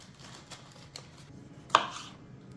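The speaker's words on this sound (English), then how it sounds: "If it won't slice right through a tomato very easily, see, like, look at that. I just went like that and it didn't cut it." A dull kitchen knife is pushed against a tomato on a cutting board: faint scraping with a couple of soft taps, then one sharper knock of the blade against the board, close and quiet, with no talk.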